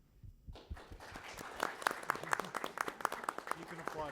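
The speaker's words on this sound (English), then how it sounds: "You can applaud for yourself." Moot court team members clap for themselves at a state championship, sparse, fairly quiet individual claps building into scattered applause after a brief voice at the start.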